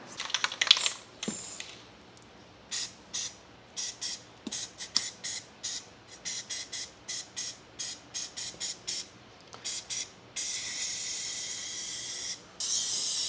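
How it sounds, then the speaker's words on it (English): Aerosol spray paint applied to a street manhole cover at night: short, quiet hissing bursts repeat in a steady rhythm, then give way to a longer continuous spray near the end, with no talking. "Tonight's task is we are going to spray paint this manhole so it doesn't look like how it looks"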